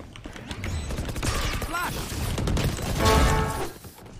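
Bursts of gunshots in a tactical shooter video game ring out with crashes and mechanical clatter, moderately loud, while players talk over the action.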